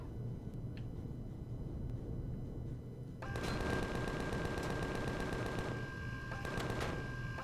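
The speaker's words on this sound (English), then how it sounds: "I've got some point defense turrets in the base over here that are shooting at me" Base point defense turrets fire on a flying craft in the space survival game Empyrion, beginning with a low engine hum. A fast, steady rattle of shots then breaks in, moderately loud and continuing in sustained bursts.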